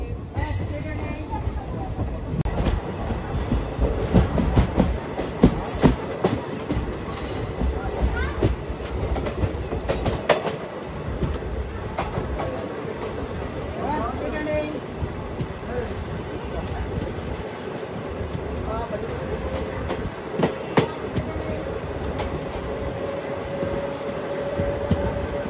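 A DMU passenger train runs between Kurnool and Guntakal, heard from inside as a loud, continuous rumble with rattling carriages and rhythmic clacks of the wheels, while people talk at times.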